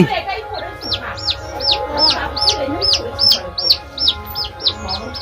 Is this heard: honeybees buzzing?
no